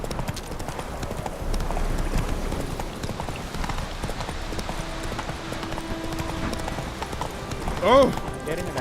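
Roach the horse's hooves clip-clop steadily in The Witcher 3, a continuous rhythmic patter close by, with game voices and a brief rising call near the end.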